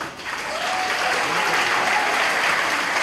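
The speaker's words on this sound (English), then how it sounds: "Ladies and gentlemen, a round of applause once again." Dense, steady applause from an audience at a French Embassy event, many hands clapping together close by and sustained evenly for a few seconds with no one speaking.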